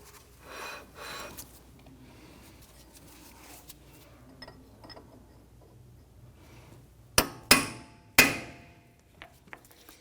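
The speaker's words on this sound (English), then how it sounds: "take a chisel or a punch, and we want to go ahead and dimple the crown right here on both sides" A punch is hammered to dimple the CV axle nut crown on a 2017-2020 Hyundai Elantra 2.0L. Three sharp metallic strikes stand out late, after a quiet stretch of faint handling noises.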